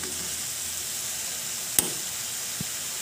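Browned pork sizzles in a pan for pork adobo as soy sauce and vinegar go in, a steady hiss with one sharp splash-like burst partway through and a brief tap after.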